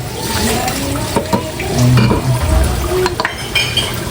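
Steady bubbling of water spinach boiling in a pot, with occasional clinks and scrapes of a utensil stirring, close up and fairly loud.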